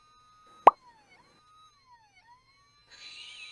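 Toy ambulance siren gives a thin, electronic wailing tone that rises and falls twice after a sharp click, then gives way to a brief rustle at the end.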